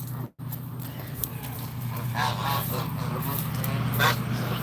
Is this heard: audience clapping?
no